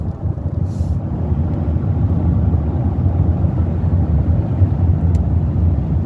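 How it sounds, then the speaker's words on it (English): Strong wind blows outdoors along a storm-damaged road littered with fallen tree limbs. It makes a loud, continuous low rumble that buffets the microphone, with no speech. "The wind's blowing pretty good today."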